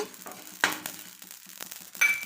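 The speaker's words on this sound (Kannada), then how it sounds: "ಗಸಗಸೆ ಹಾಕ್ಬಿಟ್ಟು ಒಂದೇ ಒಂದು ನಿಮಿಷ ಹಿಂಗೆ ಕೈ ಹಾಕ್ಸ್ಬಿಟ್ಟು" Poppy seeds and fenugreek being stirred and dry-roasted in a pan, with soft scraping strokes and a light crackle, a few sharper scrapes standing out against a quiet background.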